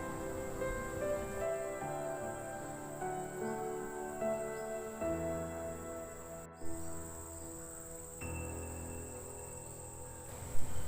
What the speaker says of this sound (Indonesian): Banyak penyengat, lebah.